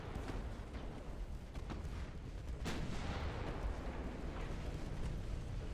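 Naval gunfire from cruisers in a strategy video game, a dense continuous rumble of booming shots and blasts with one sharper crack near the middle, steady and loud throughout.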